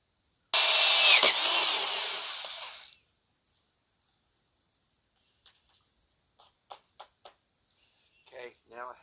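A 1.5 inch hole saw grinds through a hole in one loud, continuous burst of about two and a half seconds, followed by quiet handling clicks and a few faint knocks.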